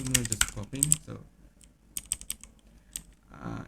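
Computer keyboard typing during a programming session, soft keystroke clicks in short bursts near the mic, with a pause between flurries and no talk over them.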